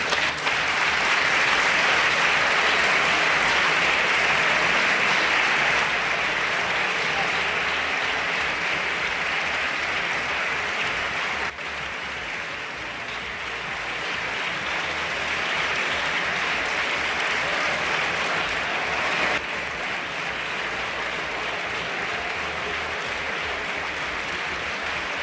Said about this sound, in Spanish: el hemiciclo le dispensó hoy al ex vicepresidente del Gobierno una ovación emocionada que duró un minuto